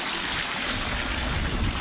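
Water pump motor running in a small farm water tank, with water pouring in as a loud, continuous broadband rush that stays even throughout and has no voices.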